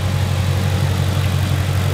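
A 2021 Ford Mustang Shelby GT500's 5.2-litre Predator V8 idles steadily, giving a deep, loud rumble with a slight throb that continues evenly from start to finish. No one talks over it.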